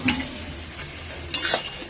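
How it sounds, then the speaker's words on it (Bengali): Chicken pieces frying in a pan hiss with a steady, close sizzle, broken by a couple of sharp utensil clinks against the pan as they are stirred. "এইদিকে ভাজা হচ্ছে চিকেনটা"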